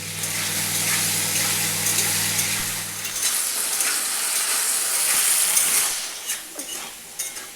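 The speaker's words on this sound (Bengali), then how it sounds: "সর্ষের তেল, আলুগুলো ভেজে নেব" Potatoes fry in mustard oil with a steady, close hissing sizzle, joined by stirring scrapes and a low hum that cuts out partway through, for a traditional Bengali vegetarian banana-flower dish.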